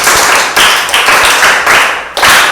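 A group claps continuously in loud, dense applause, with a few brief pauses and swells as the clapping restarts.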